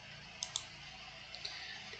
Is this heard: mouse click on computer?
yes